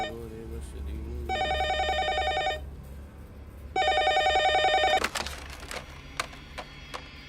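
A telephone rings in two long trilling bursts over a low hum, then a few clicks and knocks follow.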